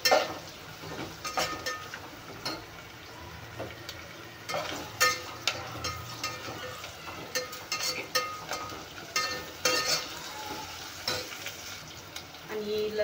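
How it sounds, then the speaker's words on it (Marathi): Sambar ingredients being sautéed in a pan with asafoetida, a steady close sizzle broken by repeated scrapes and clicks of a spoon stirring against the metal, with no talking. "परत परतून घेऊया"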